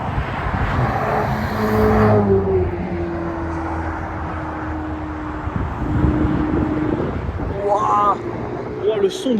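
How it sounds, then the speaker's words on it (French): An Aston Martin V12 Vantage drives by on a Normandy motorway, its twelve-cylinder engine droning through a sustained pass before fading, with other traffic and a voice talking over it. "Oh, le son de la V12 Vantage,"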